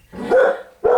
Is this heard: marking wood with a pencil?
no